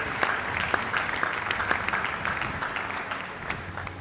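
A church congregation applauding: dense, steady clapping that carries evenly through the whole stretch, with a few sharper claps standing out.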